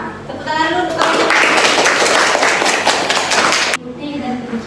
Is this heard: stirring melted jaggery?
no